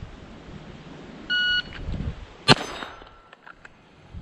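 A timer beep, then a single sharp Glock 44 pistol shot drawn from the holster, ringing off a steel target at the range, with a faint metallic clang after it.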